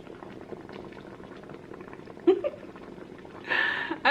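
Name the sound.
facial steamer boiling water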